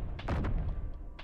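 Mech guns firing in Space Engineers, a short burst of a few heavy thuds and blasts, loud and close, over a low game rumble.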